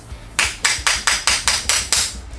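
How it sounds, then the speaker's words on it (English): A hammer taps a bearing during installation to level it, with eight sharp, evenly spaced metallic strikes, close and loud, with no talking. "take a hammer and just, if you see one side of the bearing is up a little"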